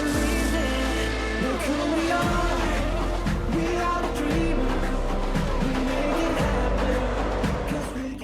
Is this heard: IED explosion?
no